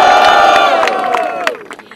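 A crowd at a rap battle in Barueri, São Paulo erupts in loud cheering and whooping, a brief roaring burst that fades and thins out over about two seconds.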